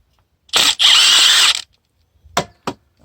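An impact tool whirs in a loud close burst to undo the shock absorber top nut on a VW Transporter T4 during a suspension overhaul, followed by a couple of short metallic clicks.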